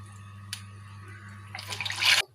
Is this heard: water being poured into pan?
yes